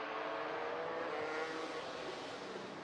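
MotoGP motorcycles racing at the Sachsenring circuit in Germany in 2006: a dense, steady engine roar heard from a distance, with a continuous high whine and no talking.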